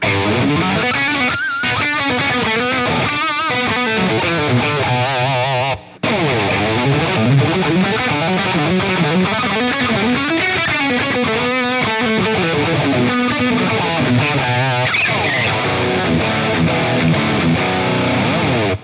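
An electric guitar plays continuously through a Jeff Loomis Devil's Triad pedal with heavy, washy reverb and some distortion, notes blurring into each other, loud and upfront with a brief cut midway.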